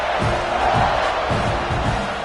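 A large football stadium crowd roars steadily during a kickoff, a dense, loud wash of cheering with rhythmic low thumps pulsing underneath throughout.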